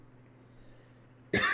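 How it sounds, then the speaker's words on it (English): A single sharp cough bursts out near the end, loud and close, after a stretch of quiet low hum. "Sorry for the cough."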